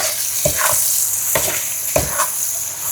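A spatula stirs chili paste with dried baby shrimp in a hot pan, loud steady sizzling broken by three scraping strokes about half a second apart.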